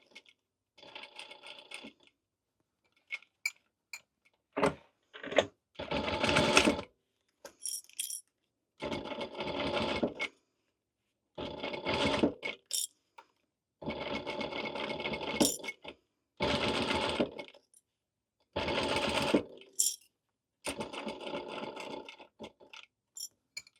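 A home sewing machine running in short back-and-forth bursts of back stitching, each whirring run separated by pauses of silence, fairly close and clear with no talk.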